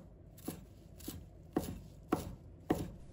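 Fresh coriander is chopped into small pieces on a board, five distinct knife strikes at an uneven, unhurried pace, close and fairly quiet with no talking.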